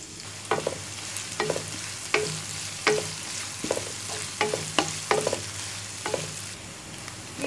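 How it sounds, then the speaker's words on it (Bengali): Chopped onions frying in hot oil in a wok, with a steady sizzle under repeated clinks and scrapes of a spatula stirring at irregular intervals, fairly close and moderately loud. "এবার আরেকটি কড়াইতে তেল গরম করে 1 কাপ পরিমাণ পেঁয়াজ কুচি দিয়ে দিব।"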